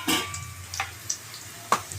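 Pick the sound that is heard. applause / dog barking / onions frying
onions frying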